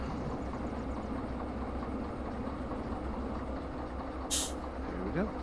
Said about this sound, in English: Let the brakes fill up.